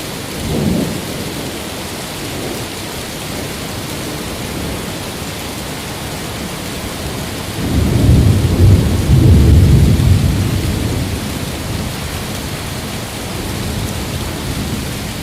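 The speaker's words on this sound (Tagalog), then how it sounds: "Ngunit ang kanyang paglalakbay ay hinarang ng isang bagyo." Heavy rain pours steadily during a thunderstorm while deep rumbles of thunder roll in, one brief near the start and a longer, louder swell midway, with no voices.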